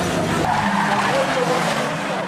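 A banger racing car runs flat out in second gear around a track corner, engine roaring loud and continuous with tyre skid noise smeared across it, close and steady for the whole stretch.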